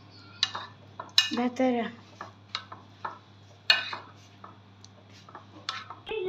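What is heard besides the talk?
stirring sesame mixture with a spoon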